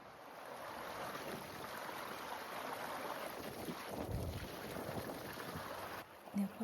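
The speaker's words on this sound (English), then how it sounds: "And here we are at the Bronte waterfalls." Brontë waterfalls on a windy moorland stream, a steady soft rush of flowing water with wind buffeting the microphone, fairly faint and constant.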